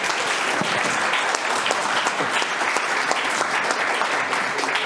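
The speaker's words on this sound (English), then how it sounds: "let's have a big applause for Paul De Grauwe" An audience applauds after a keynote lecture on the fragility of the eurozone, giving a loud, dense, continuous round of clapping from a large crowd that carries steadily for about five seconds without speech.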